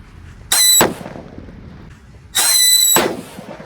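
Two sharp firecracker bursts from a Happy Power 3, each a loud crack with a high squealing whistle lasting about half a second, separated by a short gap.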